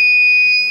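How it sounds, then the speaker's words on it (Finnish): A hoist being installed gives its warning signal, a single loud, steady high-pitched electronic beep held for nearly a second before fading slightly, with no one talking. "Eli se piippaa käytännössä, että jalat ei ole vaikka tuossa alla"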